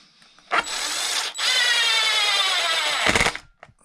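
A small power driver whirs in two bursts, a short one then a longer steady run, as long bolts are driven into an E-Revo RC truck differential and shock area, with light clicks afterward.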